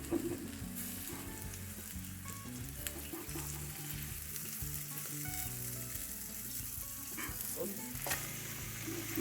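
An egg and cabbage omelette frying in a pan, cooking on its second side with a continuous close sizzle and crackle, no voices over it.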